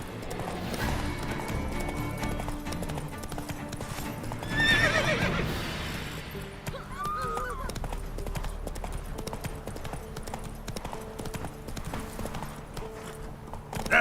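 Horse hooves clip-clop steadily through The Witcher 3 video game, with a whinny rising partway in and game ambience, music and distant voices layered around the rhythmic steps.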